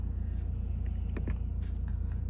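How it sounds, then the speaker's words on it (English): A ventilated seat fan runs inside a Mercedes-Benz E-Class on a hot day, making a steady, faint whooshing hum with a low rumble beneath and a few light clicks. "You've also got your ventilated seats as well. I'm going to leave that on because it's quite a hot day. Oh, it's a bit loud."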